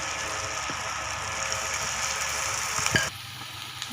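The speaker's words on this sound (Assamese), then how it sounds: "এনেদৰে গোটেইখিনি ভাজিম।" Bitter gourd frying in a pan gives a steady close sizzle throughout, with a few soft stirring knocks. The sizzle drops in level near the end.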